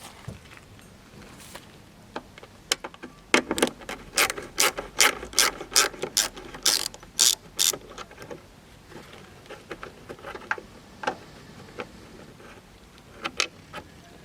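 A ratchet unscrews a screw on the bulb housing of a Mitsubishi Mirage car, making a burst of rapid, close clicking in the middle with scattered single clicks before and after.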